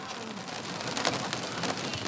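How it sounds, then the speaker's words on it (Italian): Heavy rain pours steadily over a football pitch at a municipal ground in cold weather, a dense even hiss with no voices. "piove a dirotto, temperatura proprio rigida"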